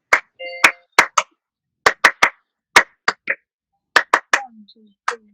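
Sharp hand claps mark a rhythm pulse, about a dozen crisp close claps in uneven groupings, with a brief sung or spoken tone in between.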